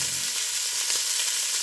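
Food browns in a pan over medium heat, making a dense, even frying hiss that fills the whole moment without a break, close and steady.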